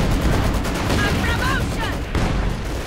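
Artillery barrage in Company of Heroes 2, a dense roll of distant booms and rapid firing under continuous talk from a commentator.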